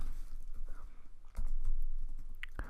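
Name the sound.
typing on a computer keyboard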